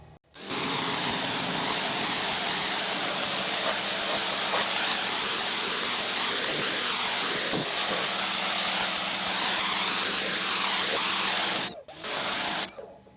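An EGO 3200 battery pressure washer sprays through a turbo nozzle, a steady loud hissing water jet running for about eleven seconds after a brief start, then cutting off with a short final burst.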